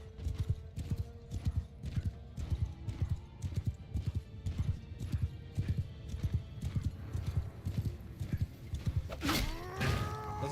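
Cavalry horses gallop in a video game battle, hooves pounding in a fast, steady rhythm throughout, with a loud whinny rising near the end over the din.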